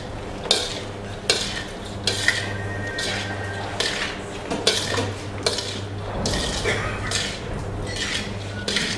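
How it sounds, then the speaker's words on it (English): Ceviche being mixed in a bowl with utensils, rhythmic clinking and scraping strokes repeating about every half second over a low steady hum, with brief talk in the background. "We're going to mix"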